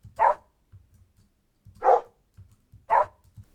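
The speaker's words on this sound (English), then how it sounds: "I added some sound effects for my dog bark." Three short game-style dog barks from a video game, evenly spaced about a second apart, loud and clear over faint low thumps, with no talking.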